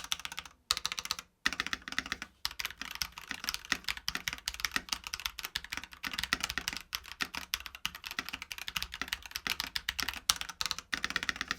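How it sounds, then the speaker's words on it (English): Fast, steady typing on a Corsair 5-pin hot-swap gaming keyboard, with crisp key clacks close up and a few brief pauses between bursts. "And take a listen to this keyboard."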